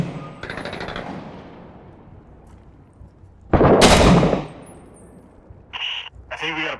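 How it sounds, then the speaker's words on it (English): Machine gun fire in the Six Days in Fallujah war game: a loud close burst of rapid automatic shots mid-way, with fainter echoing fire earlier and short sharp bursts toward the end. "Got the machine gun on you."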